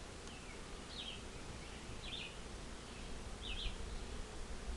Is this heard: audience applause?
no